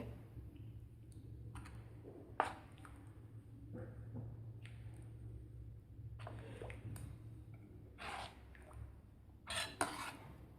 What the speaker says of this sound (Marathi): आता व्यवस्थित मिक्स करून घ्यायचं आहे